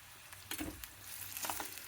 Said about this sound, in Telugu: ఇది పచ్చివాసన పోయే వరకు వేయించుకోవాలన్నమాట